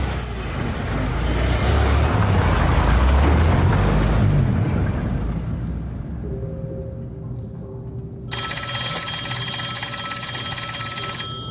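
An old telephone bell starts ringing in the last few seconds, loud and continuous, after a stretch of heavy vehicle and engine rumble that fades away.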